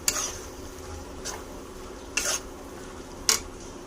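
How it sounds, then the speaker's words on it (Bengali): Biryani masala sautéed in ghee, a faint steady frying hiss with a few sharp spatula scrapes and clinks against the pan at irregular moments. "এবার ভালো করে কষিয়ে নেব ঘিয়ের সাথে বিরিয়ানি মশলা"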